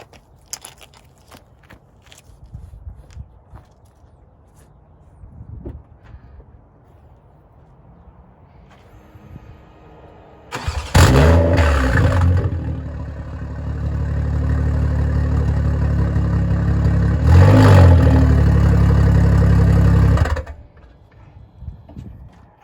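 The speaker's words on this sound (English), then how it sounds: "I always start it without an exhaust just to hear it." Car engine started with no exhaust fitted, cranking then catching into a loud raw roar, held revving for several seconds, briefly blipped, then cut off, after quiet shuffling.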